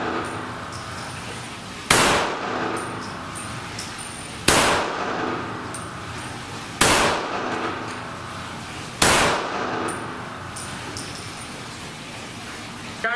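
Makarov Baikal IJ-70 pistol fired downrange at a shooting range, four sharp loud shots spaced about two and a half seconds apart, each ringing briefly over steady outdoor background noise.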